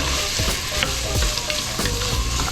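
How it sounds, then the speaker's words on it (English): Minced ginger sizzles steadily in a hot pan and is stirred around, with scraping spatula strokes breaking through the frying hiss. The stirring sits among cut pumpkin cooking for a fish and pumpkin rice dish. "I'm gonna add a little bit of minced ginger. I'll mix those around."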